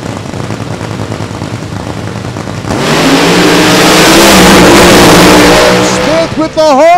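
Nitro funny car drag racers launch down the track at a drag racing reunion meet with a sudden, deafening engine roar that swells and holds. An announcer talks over the first seconds and again as it fades.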